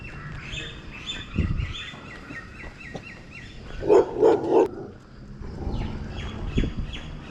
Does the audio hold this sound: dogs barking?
yes